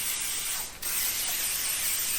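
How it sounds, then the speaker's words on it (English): WD-40 sprayed from an aerosol can onto an engine cylinder and hone during a Chevy Nova engine build: a continuous, loud, broadband hiss lasting the whole clip, with one brief dip partway through. "I'm going to spray my first cylinder down with some WD-40."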